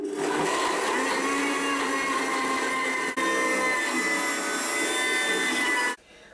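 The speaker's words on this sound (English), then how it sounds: "So you want to get all the ingredients really blended together and that it becomes like one paste." A countertop blender whirs continuously as it purees vegan cheese ingredients into a paste, a loud, steady motor whine with a brief dip midway before it cuts off abruptly near the end.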